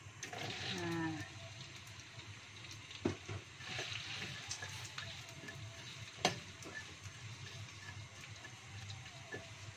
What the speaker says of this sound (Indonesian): brambang bawang dituangkan semua ya